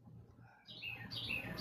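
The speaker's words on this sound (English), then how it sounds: "Yeah, you're gonna hear birds." Birds chirping outdoors, a few faint high tweets rising over a low background hum, distant and soft with no voices.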